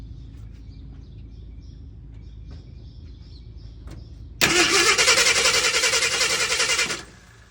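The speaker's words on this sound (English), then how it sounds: "I'm going to crank it for maybe 4 or 5 seconds just so we can get a reading" 1972 Ford F-250 engine cranking with the coil wire disconnected, a steady loud whirring starter grind for about two and a half seconds that never catches, after quiet room background.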